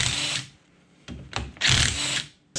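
A power tool, likely an impact gun, spins off the ring gear bolts on a 14 bolt axle during a regear, in several loud bursts of whirring with short pauses between them, alone without talk.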